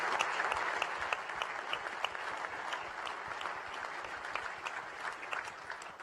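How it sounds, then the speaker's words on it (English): An audience at a Minneapolis event with Vice President Mike Pence applauds the panelists with sustained, dense clapping that holds for several seconds at an even, moderate level. "Let's give them a round of applause, please."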